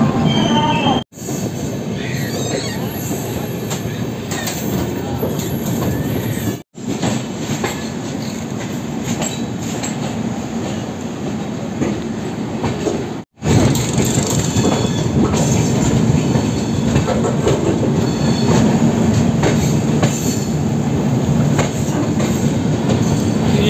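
A superfast express train running at speed past another express train, with a loud continuous roar of wheels and carriages, rhythmic clatter and occasional squeal, heard steadily from inside the carriage with a few brief dropouts.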